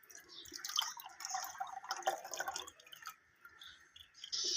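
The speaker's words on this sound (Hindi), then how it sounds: "अब इसको छान लेंगे।" A jaggery and milk mixture is strained, its liquid dripping and trickling steadily through the strainer for several seconds, fairly quiet and close, with no talking.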